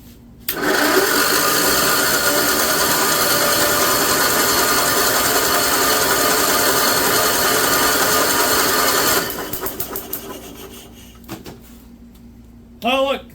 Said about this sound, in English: all I need to do is just turn it over to see if it pumps